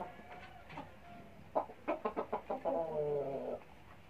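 A pair of black pet chickens, one with a crooked neck, clucking in a run of short repeated calls that rise into a longer drawn-out cackle, close and clear with no talking.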